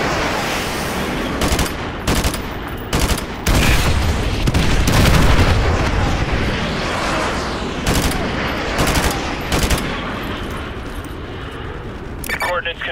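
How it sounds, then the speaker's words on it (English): An artillery strike on vehicles in a military video game mission brings rattling bursts of gunfire and heavy booms, loud and continuous, with voices talking over the explosions. "Fire mission received. Artillery inbound."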